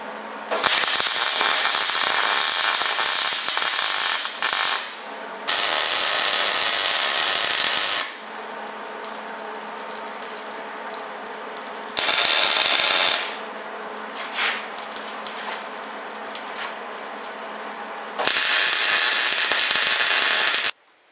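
Electric welding on metal, loud crackling buzzing bursts of a few seconds each, separated by quieter humming gaps, close and without talk.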